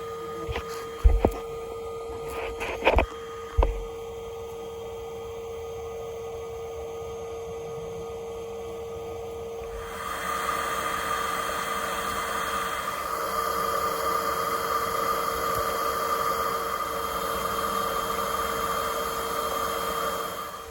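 Machine vacuum drawing yellowjacket wasps from an active nest hole during an infestation removal: a steady mains-like hum with hiss, a few sharp knocks early on, then a louder, broader suction roar from about ten seconds onward.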